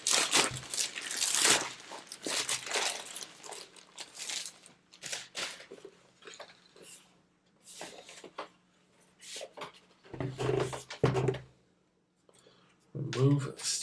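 Crinkling and tearing of a thin sealed plastic bag around a Clorox Smart Tabletop Air Purifier close by, in irregular bursts with pauses, and a few brief murmured words near the end.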